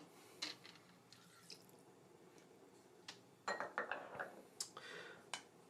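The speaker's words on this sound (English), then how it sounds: "2 ounces of water" Water trickling and dripping into a cooking pot in a home kitchen, faint and close, with light clinks of metal cookware and scattered splashes.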